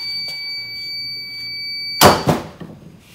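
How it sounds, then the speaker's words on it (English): A heat press gives a steady high-pitched electronic ready beep for a couple of seconds, then cuts off as a loud clunk and rustling handling noises follow up close. "There's the beep, it's ready."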